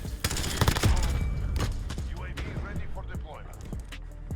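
P90 submachine gun fire in Call of Duty Modern Warfare comes as a rapid burst of sharp shots up front, followed by scattered single cracks and impacts over game ambience.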